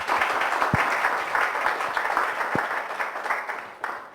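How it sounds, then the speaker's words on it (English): Steady applause from an audience thanking panelists at a university panel discussion, a moderately loud wash of clapping with a couple of sharper thumps, holding for about four seconds. "Please give a huge round of applause for everyone."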